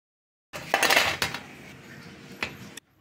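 Crisp, crackly rustling and light clinking as fried puris for aloo papadi are handled and shifted, with a few sharper crunchy bursts, close up and no voices.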